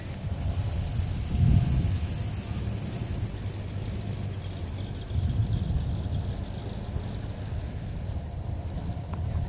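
A 1970s Chevrolet Nova drag car finishes a quarter-mile pass, its engine a steady low rumble at a distance with two brief swells, mixed with wind noise across the microphone.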